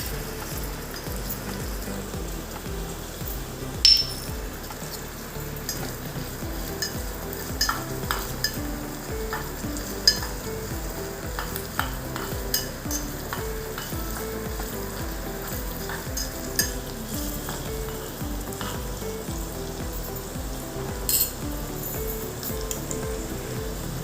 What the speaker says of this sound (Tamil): நம்ம பச்சை மிளகாய் போட்டுக்கலாம்